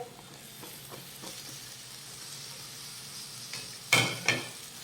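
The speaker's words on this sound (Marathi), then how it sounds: "ढोबळी मिरची बारीक चिरून घेतलेली आहे ती घालूयात" Finely chopped capsicum frying in a pan of spice masala, a low steady sizzle with a couple of sharp spoon scrapes and clinks near the end.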